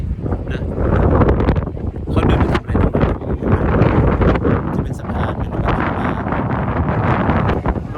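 Strong wind buffets the microphone on a seaside street by a market in Belgium, a loud constant roar with gusty rumbles throughout, while a person talks beneath it.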